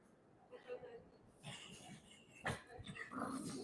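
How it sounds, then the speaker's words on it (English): A dog growls and whimpers in short, uneven bursts close by, mixed with a person's quiet murmuring. "Brady, you're such a good dog"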